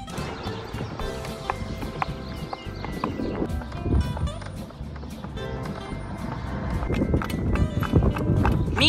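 Hooves of a horse pulling a cart clip-clop in a steady rhythm, close and clear, with rattling and rolling noise from the cart beneath and occasional voices.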